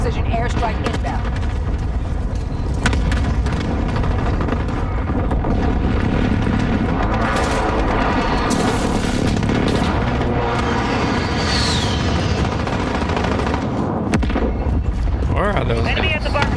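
Precision airstrike explosions in Call of Duty Modern Warfare land as a run of heavy booms and crackling blasts among gunfire, loud and chaotic, with game voice callouts heard over the action.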